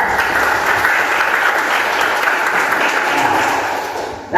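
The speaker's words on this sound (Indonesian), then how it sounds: "kasih tepuk tangan ya." A classroom group claps together in a sustained, even burst of applause, loud and dense throughout before tailing off slightly at the end.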